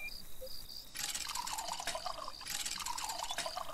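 Water sloshing and splashing in the Lakeview Cabin video game, two bursts of broadband wet noise at moderate level with a faint high tone before them, no talk.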